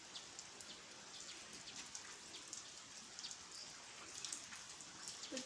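Heavy rain falls steadily in a dense, even patter of drops, with scattered louder splashes and a faint, distant quality throughout.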